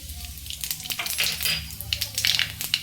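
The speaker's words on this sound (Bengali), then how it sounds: "আর এই তেলে দিয়ে দিব প্রথমে 1 টেবিল স্পুন কালো জিরে।" Black cumin (nigella) seeds sizzle in hot oil left over from frying bata fish, a close, steady crackle with scattered sharp pops and faint stirring, no talk.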